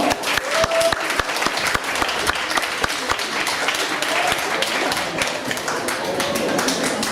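An audience claps loudly and continuously for a popping dance group at a street dance school show, dense crowd applause throughout with scattered sharper claps.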